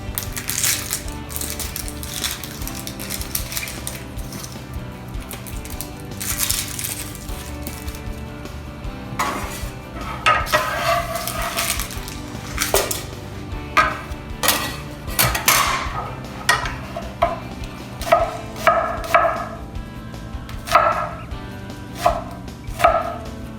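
A knife chops an onion for soup on a cutting board, the strokes close and crisp, growing into a steady run of evenly spaced taps toward the end over a faint background hum.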